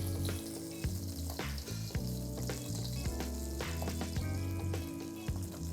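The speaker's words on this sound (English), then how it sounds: "We're cooking it right now in the oil" Kampachi fish sears in hot oil over medium-high heat, with a constant close sizzle and crackle plus scattered pops and a low background hum.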